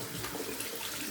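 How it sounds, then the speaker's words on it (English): Cold tap water running steadily into a bathroom sink for a rinse after shaving, a continuous close splashing hiss with no talking. "Let's do a cold water rinse."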